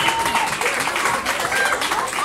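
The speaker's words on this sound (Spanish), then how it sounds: "¡Un aplauso!" Crowd applause at a quinceañera celebration, a burst of clapping mixed with cheering and voices, fairly loud and continuous.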